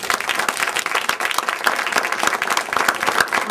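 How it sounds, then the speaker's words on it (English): An audience at a state's attorney candidate forum gives a round of applause, many hands clapping in a thick, even patter that holds steady from start to finish with no speech on top. "I'd really like one more round of applause for your candidates."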